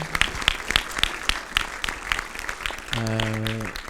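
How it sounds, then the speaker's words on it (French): Audience applause fills the room at the close of a talk on AI and human creativity, steady clapping throughout, with a sustained tonal chord of music entering near the end. "J'aimerais qu'on applaudisse une dernière fois Antoine."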